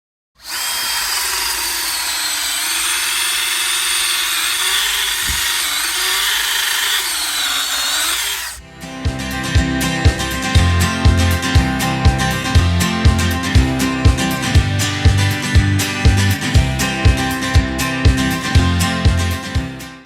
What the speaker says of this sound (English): So firstly I will be drilling some holes.